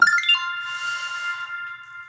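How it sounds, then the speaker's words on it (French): A mobile phone ringtone chimes in bright, steady electronic tones, a short melodic burst heard clearly on its own with no voices over it. "pardon, j'ai pas mis mon téléphone en silencieux"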